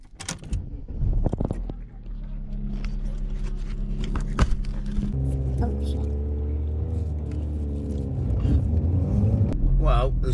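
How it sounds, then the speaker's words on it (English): A car driven along country lanes near The Roaches toward a lay-by camping spot, a steady engine rumble and road drone running throughout, close and continuous, with a few brief knocks early on. "So let's move the car."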